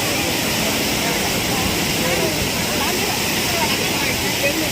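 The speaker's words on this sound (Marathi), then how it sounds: "परशुराम जो घाट सोडला की पायथ्याशीच आपल्याला इथे हा सवसाडा धबधबा पाहायला मिळतो." Savatsada waterfall, at the foot of Parshuram ghat near Chiplun on the Mumbai–Goa highway, roars in heavy monsoon rain as a dense, steady rushing wash that holds loud throughout.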